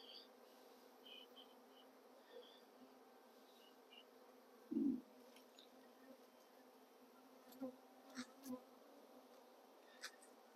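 Honey bees buzz at a hive with a faint, steady hum, one louder bee passing close by and several brief buzzes and clicks later on, during the merging of two colonies.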